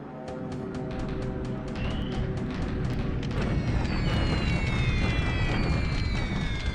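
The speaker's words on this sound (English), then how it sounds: "More bombing at Guam here." A bombing raid on Guam in a World War II naval strategy game, heavy booming explosions rumbling one after another in a dense, continuous roar, with whistling tones sliding down over the blasts.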